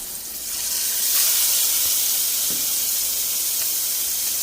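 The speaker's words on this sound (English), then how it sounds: "I'm going to fry this salmon, pan-sear these salmon" Salmon fillets pan-searing in hot oil give off a steady, loud hiss and sizzle up close, swelling slightly after the first moment and holding on without talk.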